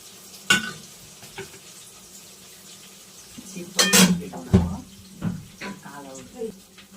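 Tomatoes go into a pan of fried onion and get stirred, with a few sharp clatters and scrapes, bursts of sizzle, and quiet stretches between, while someone talks.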